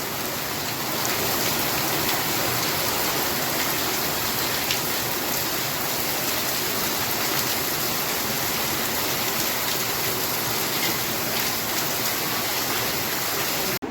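Heavy rain pours down in Junagadh, with big drops falling and water running across the road. The downpour makes a steady, dense roar throughout, with no voices.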